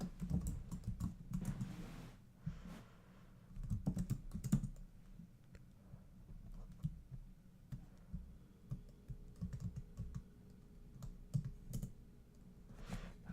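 Typing on a computer keyboard, a run of close, irregular key clicks with brief pauses, fairly quiet, no talking.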